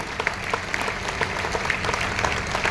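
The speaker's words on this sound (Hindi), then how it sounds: "एक बार जोरदार ताली बजा दें" A meeting audience breaks into dense, sustained applause at a steady, moderate volume, with faint crowd murmur underneath and no clear talking.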